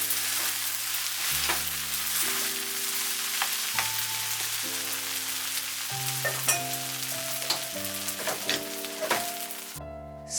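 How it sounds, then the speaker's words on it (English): Chicken and napa cabbage fried rice with green onion stir-fried in a pan, a steady close sizzle with scraping stirring noises throughout, and sustained background music tones underneath. "Put the green onion, briefly stir and turn off the heat."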